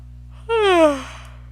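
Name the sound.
yawn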